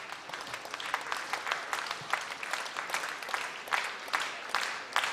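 Audience applause at an interregional music festival in Yaroslavl, a steady dense wash of many hands clapping throughout, moderately distant and without speech.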